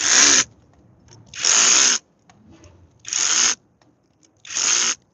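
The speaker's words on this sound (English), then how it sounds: "Now I'm gonna use my hammer drill," Four loud bursts of a hammer drill, each about half a second, separated by short quiet pauses with faint handling noise between them.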